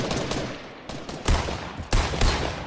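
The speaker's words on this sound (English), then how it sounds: "Yo, I'm getting shot at." Gunfire in Fortnite, a steady loud crackle of rapid shots with a few heavier bursts standing out over the ongoing firing.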